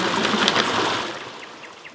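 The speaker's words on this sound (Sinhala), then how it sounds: "වතුර පාරක සද්ද ඇහෙනවා." Water flowing in a stream in a forest, a bright, steady babbling rush that fades a little after the first second, with no talking.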